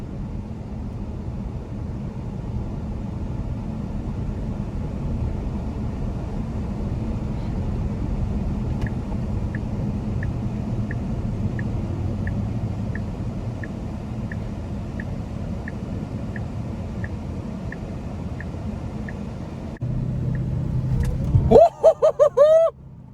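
A 2016 Tesla Model S P100D driving, heard as a steady low road rumble and cabin hum with a faint repeating tick, followed near the end by a brief burst of brighter electronic tones.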